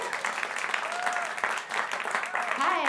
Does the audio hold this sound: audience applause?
yes